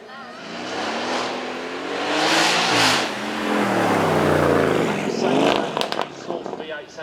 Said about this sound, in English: 4-litre V8 with 2 turbos.